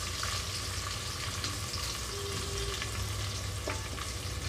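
Onions and green chillies frying in a pan for a coconut milk mushroom biryani, a steady close sizzle with occasional stirring scrapes and no speech.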